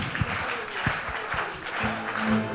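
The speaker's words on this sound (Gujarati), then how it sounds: "અને હવે આપણી સ્પેશિયલ તાળીઓ, હા, અને કલ્યાણજીભાઈ માટે તો જબરજસ્ત થવી જોઈએ." A ceremony crowd claps for Kalyanji Virji Shah at a lifetime achievement award event. The applause is moderate and dense, with a few louder claps standing out and a voice partly audible underneath.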